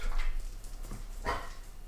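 A dog barks a couple of times nearby, short muffled woofs over a low steady hum, with no talking.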